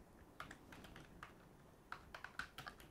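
Someone types LaTeX code on a computer keyboard, a faint run of soft, irregular key taps with small clustered bursts near the end and no voices.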